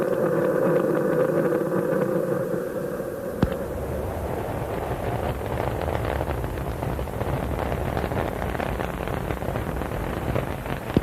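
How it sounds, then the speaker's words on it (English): Space Shuttle Columbia's three main engines roar after liftoff in a dense, steady rumble with crackling texture, distant and continuous, after an earlier tonal hum that cuts off abruptly. "3 main engines up and running"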